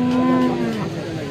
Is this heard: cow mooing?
yes